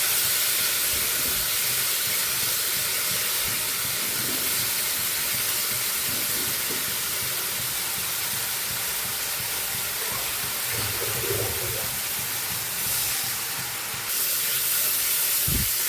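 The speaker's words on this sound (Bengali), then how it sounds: "একটু জল দিয়ে কষিয়ে দিচ্ছি।" Pointed gourd curry sizzles and hisses steadily in a pan after a little water is added, a dense continuous frying spatter at close range with no voices.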